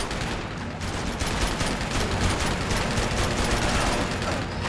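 Sustained rapid machine-gun fire from a video game shootout in Uncharted 2, loud and continuous bursts with overlapping shots and clattering impacts, heard alone without talk.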